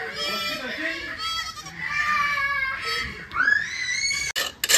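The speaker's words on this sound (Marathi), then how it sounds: "इथं बकरा आणले." A goat brought to a farmhouse bleats several times in a row, with long, wavering, nasal cries that sound close and loud. Other animal sounds or voices may be mixed in.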